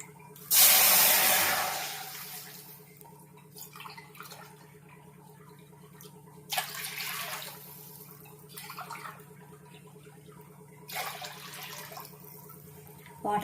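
Water pours into a cooking pot for semolina sweet, a brief loud splashing gush at the start followed by quieter trickles and a few later pours over a low steady kitchen hum.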